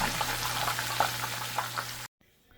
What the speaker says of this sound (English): I will start frying my plátano